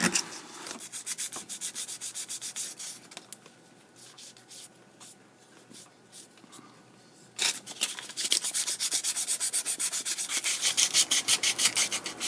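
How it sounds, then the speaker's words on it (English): Rhythmic sanding strokes rub back and forth over metal rivets on a saw blade knife, brisk at first, quieter in the middle, then a fast steady run of strokes to the end. "when I'm sanding these rivets, I want the sand scratch marks all to go in the same direction"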